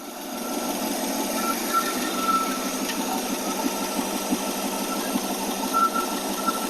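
Car engine idling steadily after a Holley 2 barrel carburetor rebuild, a low even rumble with faint ticking, heard in a workshop without talking.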